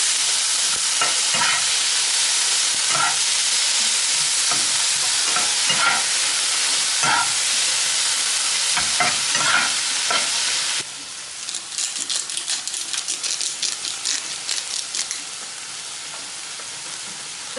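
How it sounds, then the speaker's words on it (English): Prawns with parsley fry in a hot pan, giving a steady loud sizzle and hiss with frequent scraping stir clicks; the sizzle eases to a softer, crackling fry for the last several seconds. No one speaks. "Add your prawns, quick and parsley"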